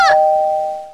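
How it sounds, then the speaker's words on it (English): A video game doorbell gives one bright electronic ding that rings out and slowly fades, heard loud and alone. "It won't stop ringing the doorbell!"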